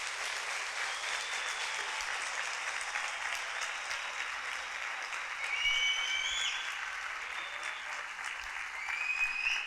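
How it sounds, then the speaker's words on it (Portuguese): Sustained applause from a graduation ceremony audience fills the hall, steady clapping that swells louder toward the middle and end, with no speech over it. "eu gostaria que todos fizessem uma calorosa salva de palmas para vocês aqui, todos os convidados, todos os familiares"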